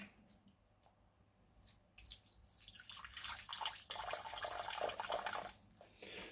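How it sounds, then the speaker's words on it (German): Water is poured into a terrarium housing tropical isopods, starting with faint drips and then a louder, close trickling splash that runs steadily before tapering off, with no talking. "Jetzt muss man mal ein bisschen Wasser nachfüllen."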